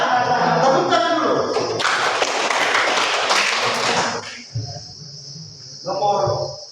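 A class claps hands together in a short burst of dense clapping that rises and fades in the middle, with a steady high insect-like chirr running throughout and a few thumps and taps before and after.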